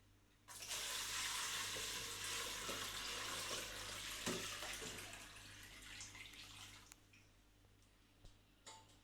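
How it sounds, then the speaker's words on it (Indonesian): Water pours steadily into a pot holding blocks of ice, a broad rushing stream that starts abruptly, runs for several seconds and then tapers with a few small splashes near the end. "ditambah dengan air."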